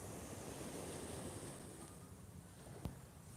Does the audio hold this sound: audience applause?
no